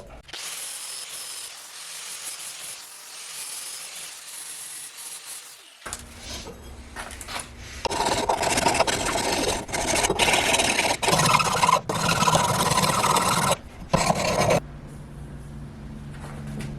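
Steady rasping of abrasive on a steel knife blank, first a soft scratchy rub, then a louder power tool grinding and sanding with a humming drone, pausing briefly near the end.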